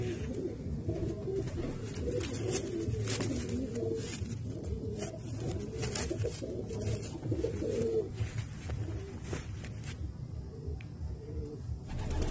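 A desi pigeon cooing close by, soft low repeated coos rolling on over a steady background hum, with a few faint clicks and chirps scattered through.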